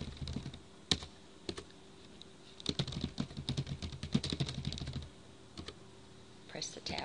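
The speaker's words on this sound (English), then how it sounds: "and type Jennifer Douglas" Keys clatter on a computer keyboard as text is typed into a Microsoft Word document, in a quiet room with short bursts of irregular tapping separated by pauses.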